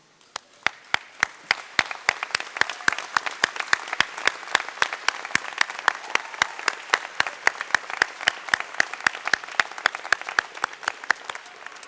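Graduates at the 2014 Ithaca High School commencement clap for their friends and family, a steady, evenly paced run of sharp claps that rings out across the hall for the full stretch.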